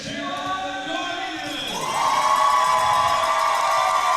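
Crowd cheers and shouts at a girls' varsity volleyball championship in a gym, a steady roar that swells louder halfway through and holds, with whoops rising above the noise.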